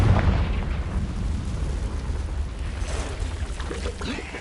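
Confringo fire spell explosion in the video game Hogwarts Legacy, a loud rumbling boom that rolls on as a dense, sustained low roar and slowly fades, with no talk.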